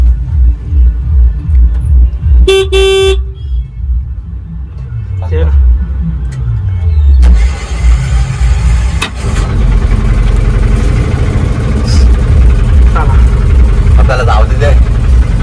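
A car engine starts with a short crank, then idles and revs with a low steady rumble, close by, while several people talk over it throughout.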